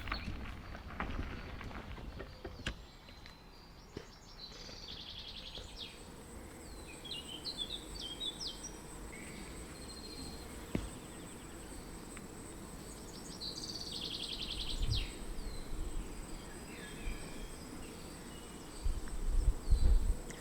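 Bees buzz softly around a quiet outdoor spot by an old brick fortification in northern Germany, with scattered bird chirps calling from a distance.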